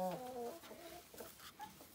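Hen clucking at dusk near the roost, a short run of nasal, throaty clucks close by, fairly quiet, followed by faint rustling.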